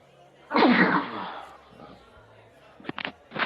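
One loud, abrupt sneeze close to the microphone, followed by quiet and then brief bits of speech.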